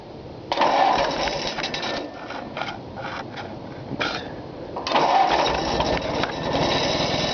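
Small engine with a 12-volt electric starter and a big automotive battery being cranked, choke out, a sustained churning crank with a brief break, then cranking again, close and loud.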